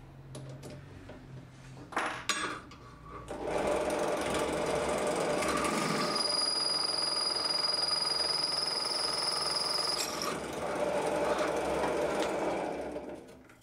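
A few clicks and taps, then a hand-sharpened drill bit bores loudly and steadily into metal for several seconds, with a high whine before winding down.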